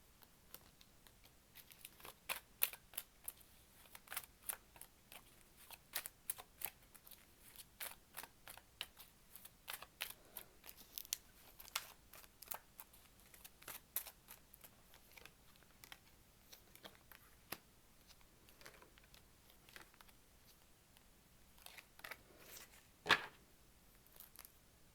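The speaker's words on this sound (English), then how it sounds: "Let me pull some cards from tarot." Tarot cards are shuffled and pulled by hand in a quiet room, a long run of soft, irregular papery flicks and taps with brief louder snaps, all faint and close, with no talking over them.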